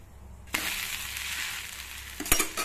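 Adai dosa frying in oil on a pan starts with a sudden, loud sizzle after a short quiet moment and keeps sizzling close up, with a sharp scrape or clatter near the end.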